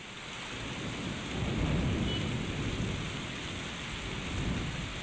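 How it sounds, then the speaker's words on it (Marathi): Heavy monsoon rain pours down in Mangaon, where the roads are flooded, a dense, steady roar that swells slightly midway and again near the end, with a low rumble beneath it and no voices. "जोरदार पाऊस कोसळतोय"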